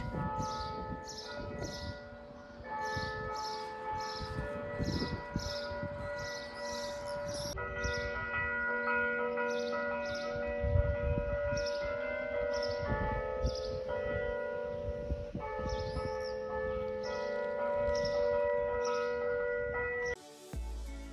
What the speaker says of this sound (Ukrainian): ця мелодія лунає з дзвіниці костелу, що знаходиться поруч